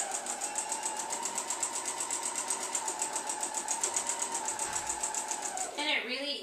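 A sewing machine stitches a voile scarf with a fast, even, rhythmic clatter, close and continuous for several seconds before stopping, followed by a brief shift of handling noise.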